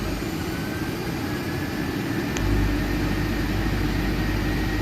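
Airliner jet engines spool up for takeoff in a flight simulator game on a Manchester to Berlin route, a steady broadband roar that grows deeper and heavier partway through as thrust builds, with no talking.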